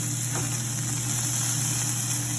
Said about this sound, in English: we're going to sear these guys on one side for about 2 minutes